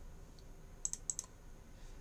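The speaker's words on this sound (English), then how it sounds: "It's just very annoying doing this on a keyboard as opposed to having it in my hand" A few quick keystrokes tap on a computer keyboard, a short cluster of light clicks in the middle of an otherwise quiet room with faint background hum.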